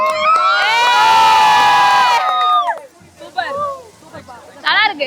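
First-year IT students cheer and shout at a college Pongal celebration, a loud sustained burst of youthful voices that breaks off into scattered shouts and chatter.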